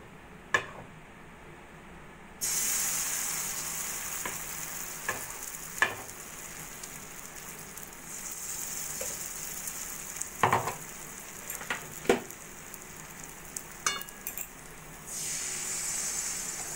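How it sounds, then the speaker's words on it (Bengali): Paratha frying in oil in a wok, a steady bright sizzle that surges loud after a quiet start, with occasional sharp clinks and scrapes of a utensil against the pan. "কড়াইতে তেল দিয়ে দিয়েছি। একইভাবে আমি আরো একটা পরোটা ভেজে নেব।"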